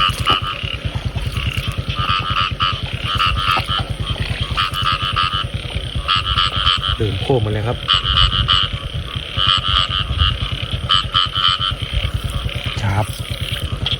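Frogs croak densely and loudly in a rainy rural field in Isan, Thailand, a constant pulsing chorus close by, with a voice briefly speaking over it.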